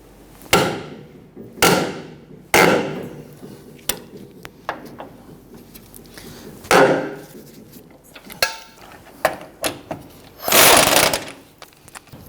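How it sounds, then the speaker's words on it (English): Sharp metallic clanks and knocks as a breaker bar works loose a stuck front control arm bolt on a 2011-2015 Kia Sorento, several separate strikes and ratchet clicks spread irregularly, close and fairly loud with no talk. "So we're going to go ahead and use our breaker bar."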